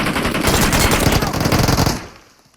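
Rapid automatic gunfire in PUBG Mobile, a loud, close burst of dense shots lasting about two seconds before cutting off and fading.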